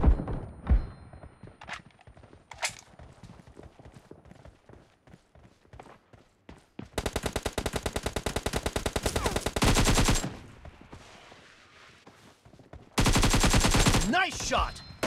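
Gunfire in a shooting video game: scattered single shots and thumps give way to long rapid automatic bursts, with a quieter stretch in between before another sustained burst.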